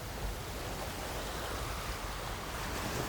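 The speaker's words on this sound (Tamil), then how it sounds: "கடல் அலை சத்தம் கேட்குறது சரியா?" Steady broadband roar of sea waves washing in at Galle Face on the Colombo shoreline, a continuous surf wash with wind, loud and unbroken, no voices.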